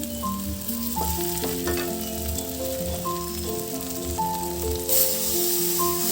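Home-style mutton curry fries steadily in a pan, a continuous close sizzle with stirring scrapes under a layer of music, and no one speaks.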